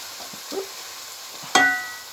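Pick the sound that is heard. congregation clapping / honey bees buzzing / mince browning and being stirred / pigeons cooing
mince browning and being stirred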